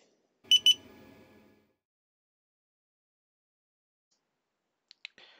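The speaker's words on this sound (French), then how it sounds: "On met le capteur dans l'eau, et il va faire du bruit." A Devolo water leak detector placed in water sounds its alarm: two sharp, loud electronic beeps followed by a fading rattle, then near silence, with a few faint clicks and small noises at the very end.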